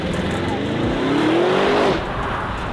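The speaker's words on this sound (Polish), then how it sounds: "Ten samochód naprawdę tak się rozpędza, jak bełt wystrzelony z kuszy." An Audi RS Q8 SUV with a 780 hp engine accelerates hard, a loud, steady engine roar rising in pitch over about two seconds before easing off, heard close.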